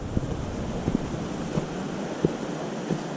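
Creek water flows beside a hiking trail on Meigs Creek Trail, a steady, even rushing hiss that stays constant throughout, with a few soft, scattered thuds.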